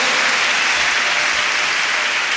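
A church congregation applauds together in steady, dense clapping that fills the room, loud and continuous throughout with no voices rising above it.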